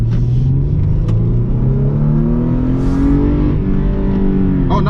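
A 2021 Toyota 4Runner SR5 in sport shift mode accelerates hard, its engine note climbing steadily and dropping at each gear change before rising again, loud and close throughout with no voices.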